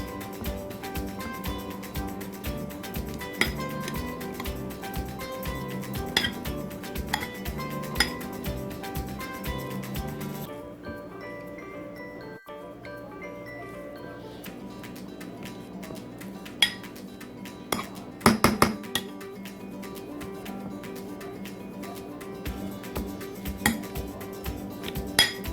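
Cooled, softened sweet potatoes mashed in a bowl for a Caribbean-style vegan black bean burger, with a steady run of clinks and scrapes of utensil on dish over a long stretch, close, with no talking.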